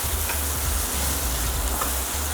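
Tomatoes frying in a pan for a wild salmon dish give a steady, fairly loud sizzle with soft stirring scrapes throughout and no voices.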